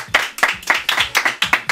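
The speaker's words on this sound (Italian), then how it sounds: "Un applauso per i nostri sponsor e premi." An audience claps for sponsors at an Italian music talent show, about eight quick, close, distinct hand claps in a steady rhythm.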